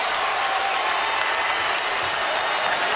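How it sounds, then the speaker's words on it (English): A basketball arena crowd gives a standing ovation late in the fourth quarter of a 2009 NBA game between Cleveland and Washington, a steady, dense wash of applause and cheering that fills the space without a break. "Standing ovation from this crowd."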